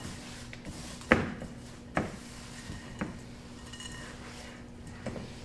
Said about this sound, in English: So I stir this really well.